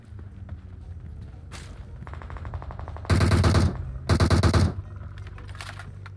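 Automatic weapon fire in the mobile battle game PUBG Mobile: two dense, loud bursts of rapid shots stand out over quieter scattered game shots and ambient game sound.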